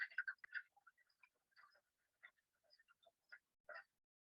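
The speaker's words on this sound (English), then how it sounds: "It's one of the first frogs we'll hear." A frog calling in early spring, likely a freeze-tolerant species such as a wood frog, gives short clucking, duck-like croaks in scattered bursts, some doubled, fairly faint and without talk.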